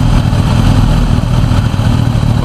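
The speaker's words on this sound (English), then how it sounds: "This is Ray's new bike, by the way" A motorcycle engine idles close and loud, a steady low rumbling chug with slight clatter and no speech.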